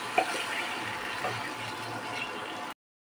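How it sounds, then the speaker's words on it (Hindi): Water poured into a pan with salt for cooking rice, a continuous splashing pour for nearly three seconds that stops abruptly, close and moderately loud. "अब हम लोग पानी डाल देंगे"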